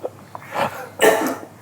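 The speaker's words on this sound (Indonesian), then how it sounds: "Batuk kok ingin terus nah." A person coughs twice in a quiet room, a short soft cough followed by a louder, harsher burst, close to the listener.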